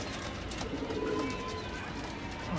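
Soft, low cooing from a large pigeon close by over a constant background hum, a few gentle rolling coos with no talking.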